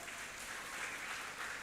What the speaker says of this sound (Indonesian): tepuk tangan buat Tuhan Yesus Kristus